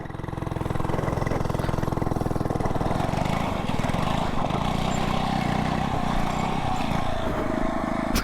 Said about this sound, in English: I wanted to see if I can do a little burnout circle